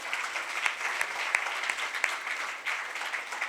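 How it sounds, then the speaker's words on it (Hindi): Sustained applause from a large gathering at a camp session in Yavatmal, a dense steady patter of many hands with a few sharper claps standing out, continuous throughout with no talk over it. "इसके लिए तो तालियां बनती ही है"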